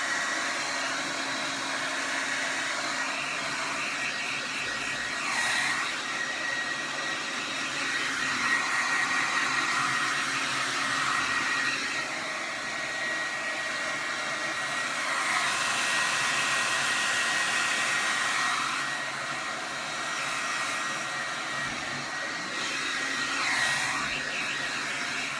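A hair dryer blow-drying short hair, a continuous close whooshing roar that swells and dips as the airflow moves around the head, running alone without talk.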